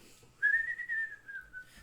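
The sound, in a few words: people whistling, a Snow White-inspired power in a game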